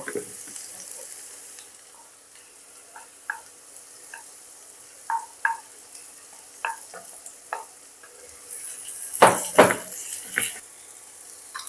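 Ginger-garlic paste frying in a pan with onions and potatoes for a fish curry, stirred with a utensil: a soft sizzle under scattered scraping clicks, rising to a louder burst of stirring and spatter near the end.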